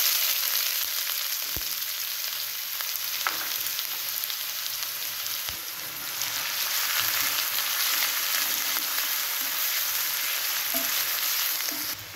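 Mustard seeds, cumin and chopped onion fry in hot oil for a South Indian drumstick gravy, giving a continuous close sizzle with scattered crackles and pops and no voices.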